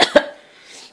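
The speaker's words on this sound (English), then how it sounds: "Coughing in the video." Two quick, close coughs in rapid succession, followed by a faint breathy trailing sound.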